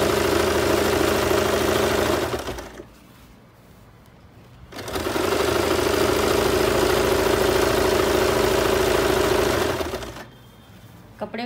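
Sewing machine stitching the leg seam of homemade palazzo trousers, two long steady runs of close mechanical whirring separated by a short pause, with faint talk in the background.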